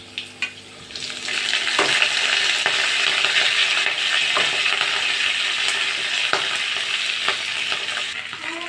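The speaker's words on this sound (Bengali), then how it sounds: "অল্প একটু নাড়াচাড়া করে আমি ওলকপির পাতাগুলো সব দিয়ে দেব" Kohlrabi leaves fry with garlic and black cumin in hot oil, giving a close, steady sizzle broken by sharp spatula scrapes and knocks against the pan.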